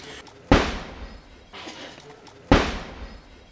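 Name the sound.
gunfire exchange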